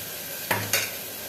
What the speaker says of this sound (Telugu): ఒకసారి అంతా కలిపేద్దాం.